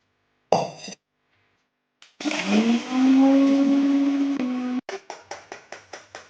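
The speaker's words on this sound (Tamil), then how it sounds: "நம்ம வந்து வறுத்து ஆற வச்சதை இப்போ போட்டு அரைக்க போகிறோம்" Mixer grinder grinding roasted green gram into powder: a loud, steady whirring run of about three seconds after a brief blip, then a series of short pulsed bursts.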